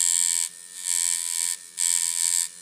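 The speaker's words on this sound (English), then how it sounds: "you can notice that lower volt is really choppy" A Sidewinder Version 2 tattoo machine runs at low voltage with a loud, steady buzz. The buzz is choppy, swelling and dropping in uneven bursts throughout, and nothing else is heard.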